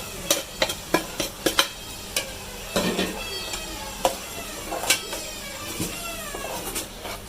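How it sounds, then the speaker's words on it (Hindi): Chicken keema mince fries with masala in a pan, loud sizzling broken by a quick run of sharp spatula taps and scrapes against the metal, then slower stirring strokes, with no one talking. "देखिए कीमा भुनने लगा है"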